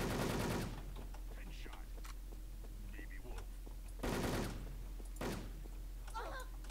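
Gunfire in the Wolfteam video game, short bursts of shots aimed at the player coming at intervals between quiet stretches, faint overall, with a voice speaking softly in between.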